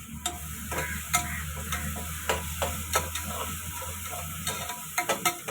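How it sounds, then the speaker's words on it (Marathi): Garlic paste goes into a hot pan with cloves and cardamom, hissing in a steady sizzle while a spoon stirs and taps the pan in irregular clicks, close and moderately loud. "लसूण पेस्ट टाकत आहे."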